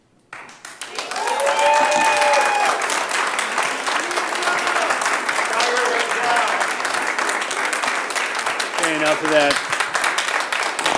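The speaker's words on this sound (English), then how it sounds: "Please refrain from the applause, please." School board meeting audience breaks into loud sustained applause that swells quickly and holds steady for several seconds, with a voice speaking briefly over the clapping.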